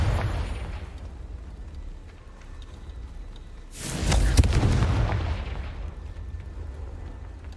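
A Confringo fire spell bursts in Hogwarts Legacy, one deep booming explosion landing midway with a rumbling tail that fades, set against quiet game ambience and a few faint earlier thuds.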